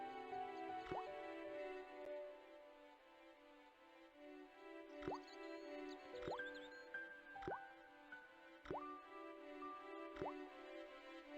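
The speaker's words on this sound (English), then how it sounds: "The slow drip of water barely dampened the towel." Slow water drips falling from a faucet in the Broken Sword game, several separate plinks spaced a second or two apart over a steady low background hum.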